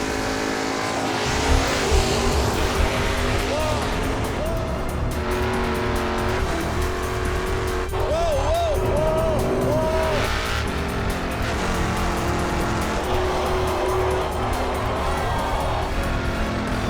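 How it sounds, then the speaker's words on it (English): A drag race car does a burnout with squealing tires at a Pinks All Out drag racing final, a loud sustained engine roar with tire squeal rising and wavering throughout. "Let's see the burnout."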